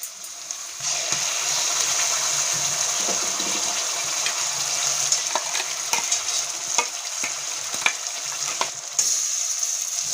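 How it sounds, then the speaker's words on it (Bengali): Boiled spice paste is added to fried onions in a hot pan, producing a steady, bright hiss and sizzle with intermittent scrapes and stirring knocks, and no talking. "এবার যে মশলাটা পেস্ট করে গেছিলাম, বয়েল মশলা, সেটা পুরোটা দিয়ে দেবো।"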